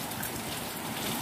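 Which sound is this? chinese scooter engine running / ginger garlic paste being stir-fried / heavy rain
heavy rain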